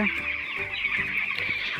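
Broiler chicks at about sixteen days old on a poultry farm, a close flock giving continuous soft clucking and peeping calls over a steady background hum.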